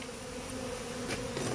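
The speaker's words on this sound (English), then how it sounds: "You can see maybe inside this box is full of bees." Swarm of honey bees with the queen caged in a clip at the bottom, buzzing steadily inside a box; a dense, continuous hum at moderate level with no talking.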